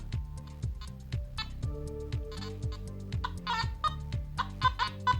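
A metal detector gives short, clipped beeping tones in quick irregular succession over a pulsing low electronic background hum, close and fairly quiet.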